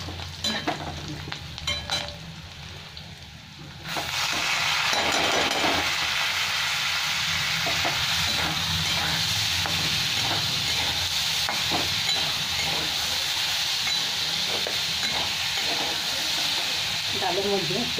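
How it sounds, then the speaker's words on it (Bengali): Masoor dal tipped into a pan of fried onions and stirred, setting off a loud, steady sizzle and hiss that jumps up after a softer start and keeps going, with scraping stirs throughout. "এখানে আমার পেঁয়াজ ভাজা হয়ে গেছে, এবার মসুর ডালটা দিয়ে দিচ্ছি।"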